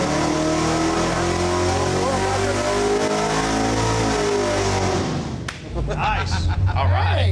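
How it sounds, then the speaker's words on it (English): A 600 hp Mud Wagon engine revving at full throttle on a dyno, a loud sustained roar that holds steady for about five seconds, dips briefly, then surges back with shifting rev tones. "Listen to the engine."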